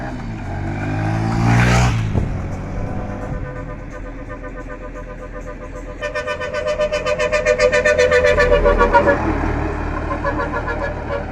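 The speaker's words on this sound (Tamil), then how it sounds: "சங்குப்பட்டி பாலத்தில் அதிவேகமாக வாகனங்கள் செல்லுது" Vehicles speeding over Sangupiddy bridge: a loud passing whoosh early on, then a steady engine drone that swells again later, with people talking over it.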